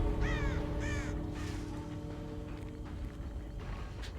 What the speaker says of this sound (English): Crow is still here.